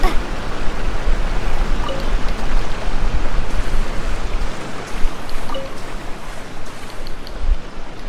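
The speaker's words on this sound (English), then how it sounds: "Man, these waterfalls sure are wild." Waterfalls in the Genshin Impact video game, a dense, continuous rushing roar of falling water that stays loud and steady throughout, with no voices.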